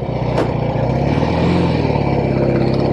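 Norton Atlas 750 classic motorcycle engine revving hard and spinning up quickly, a loud, close, continuous rumbling roar with rising pitch, no talking.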